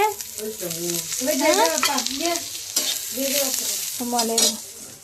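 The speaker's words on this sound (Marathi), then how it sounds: "जरासं तेल टाकते म्हणजे पटकन भाजते." Oil fries in a pan while chicken curry is prepared, a soft sizzle running underneath voices that talk over it for most of the stretch.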